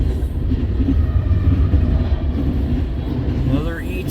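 In Ladysmith, Wisconsin, a CN freight train with a distributed power locomotive rumbles past nearby, its loud, constant roar and rattle steady throughout, with a brief rising whine near the end.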